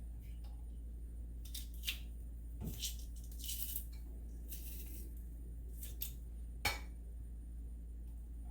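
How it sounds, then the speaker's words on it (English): A kitchen garlic press crushes three peeled garlic cloves, giving a scattered run of crisp squeezing crunches, clicks and small metallic clinks close by, over a steady low background hum. "now I'm just going to use my garlic squisher and squish it in"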